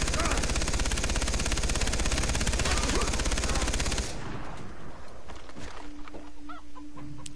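Far Cry 3 machine gun fire rattles in a dense, rapid, continuous stream for about four seconds, loud and close, then cuts off to quieter game ambience with faint clucking.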